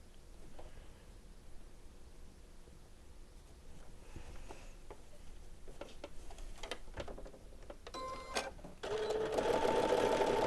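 Sewing machine stitching a dress, with faint ticks and short bursts of running at first, then a louder steady run of stitching near the end.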